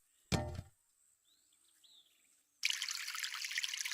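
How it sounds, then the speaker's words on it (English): Watering plants in the VR farming game Harvest VR: a short splash, a few faint chirps, then a steady loud trickle of pouring water running to the end. "Let's go ahead and water these real quick."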